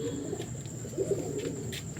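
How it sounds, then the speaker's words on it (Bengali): A female pigeon coos softly in a couple of low, murmuring calls against a steady background hum. "এটা মাদি পায়রা"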